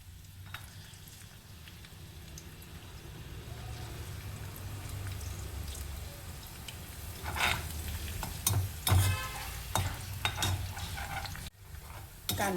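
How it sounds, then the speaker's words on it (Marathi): Finely chopped onion fries slowly on low heat, a soft continuous sizzle that grows a little louder, broken by several close stirring scrapes and clanks near the end. "कांदे सावकाश मंद आचेवरती होऊ द्यायचे."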